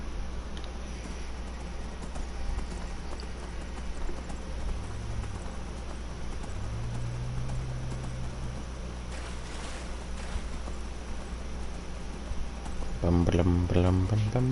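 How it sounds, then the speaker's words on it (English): A horse in the Skyrim video game, its hooves clip-clopping steadily under a continuous ambient wash, with a few tonal game sounds and a burst of voice near the end. "Whose horse are you?"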